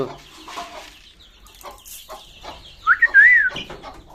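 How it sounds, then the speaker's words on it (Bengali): Chickens clucking softly nearby in scattered calls, with one clearer, higher cluck standing out near the end. "এই যে টাইগার মুরগি নয়টাই বেঁচে আছে"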